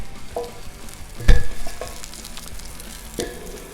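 Shrimp fry on a Blackstone griddle with a steady, close sizzle, broken by a sharp clatter of a spatula or tongs partway through and a few lighter scrapes.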